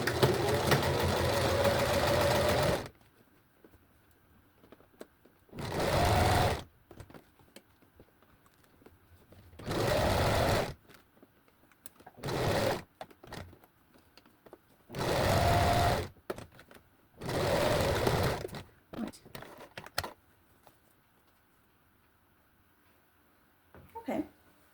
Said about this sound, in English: I put my needle down. I'm manipulating here. Okay. This time I will back tack.